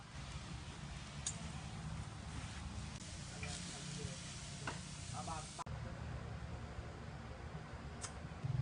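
Steady sizzling and crackling from honey-marinated pork neck on a grill outdoors in front of a house, with a low background hum and occasional small clicks and scrapes.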